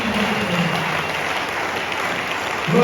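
Congregation clapping during a church service, a dense, steady patter of applause from a crowd that carries on evenly for a few seconds and swells slightly at the end.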